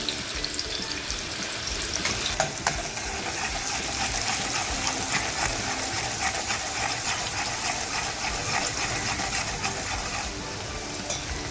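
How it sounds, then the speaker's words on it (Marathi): Onion dropped into hot oil for mutton kharda, giving a loud, steady, close sizzle and crackle of frying that runs unbroken throughout with no talking. "तेल तापत ठेवलं होतं एक कांदा घेतलाय तो कांदा टाकते"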